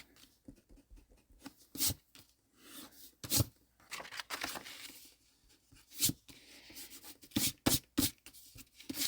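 An eraser rubs pencil lines off a paper card in quick, scratchy bursts, close up and soft, with short pauses between strokes.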